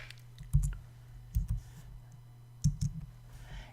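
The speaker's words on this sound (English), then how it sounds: "now I'm going to have to start typing in stuff" A few soft clicks and taps in small bursts of typing on a computer keyboard, with pauses between, over a low steady hum.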